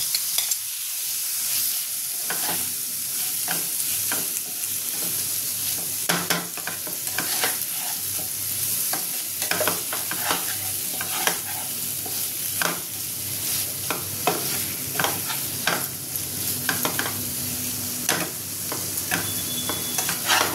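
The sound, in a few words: prawns frying and being stirred in spiced masala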